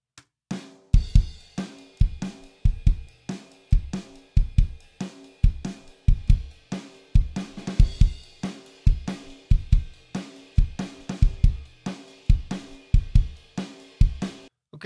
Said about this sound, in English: So here's the sound of the drums all together.